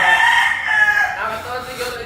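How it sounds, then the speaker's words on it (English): A rooster crows on Pandan Island near Sablayan, Mindoro, in the Philippines, giving one drawn-out, fairly loud crow that fades over about two seconds against outdoor background noise. "It's fucking chicken."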